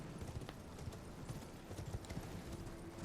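Horse galloping in the video game Elden Ring, a quick steady pattern of hoofbeats, faint and muffled under a low rumble.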